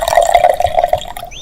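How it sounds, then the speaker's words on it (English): Liquid is poured into a car engine, heard as a close, steady trickle with small drip-like pulses over a little more than a second before it tails off. "Well spotted, Mummy Sheep, gasped Daddy Pig, pouring oil into the engine."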